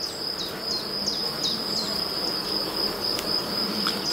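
Black honey bees buzz around an opened hive colony during an inspection, a dense steady hum with a thin, high insect whine laid over it. It stays continuous throughout, and nobody speaks.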